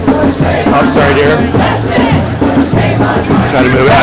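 A large crowd at a Justice for Trayvon Martin protest in San Francisco, dense and loud throughout, with rhythmic chanting voices and general shouting blending into a constant roar close around the listener.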